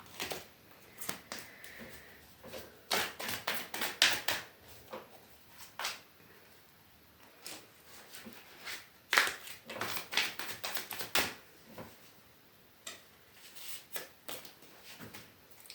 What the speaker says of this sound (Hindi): एक लास्ट शफल है।